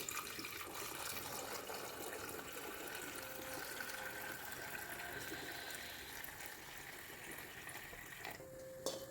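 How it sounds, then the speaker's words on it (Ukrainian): Warm water pours steadily from a tap into a cooking pot holding glass preserving jars set on a towel, a continuous close rushing flow that runs on without a break. "Та заливаємо теплою водою."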